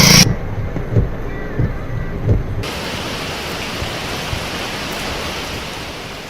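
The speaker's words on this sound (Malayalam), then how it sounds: "കോഴിക്കോടിന്റെ കിഴക്കൻ മലയോരത്ത് കനത്ത കാറ്റും മഴയുമുണ്ട്." Heavy wind and rain in the eastern hills of Kozhikode pour down as a dense, constant hiss with a few dull thumps early on, loud and unbroken throughout.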